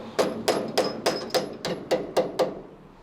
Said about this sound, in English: Get a little rubber mallet. Just tap it through.